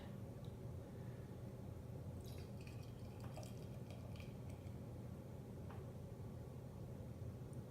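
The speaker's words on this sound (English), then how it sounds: "Pouring into my new Tired Hands Teku here." Russian River Damnation, a lively Belgian-style beer, is poured into a Teku glass, giving soft splashing and fizzing with a few faint drips and clinks, quiet and close.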